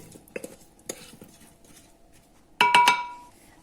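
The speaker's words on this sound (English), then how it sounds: "Put on an oven tray." Seasoned potatoes tipped onto a metal oven tray: a few soft taps and scrapes, then a bright burst of clattering, clinking metal near the end, close and alone.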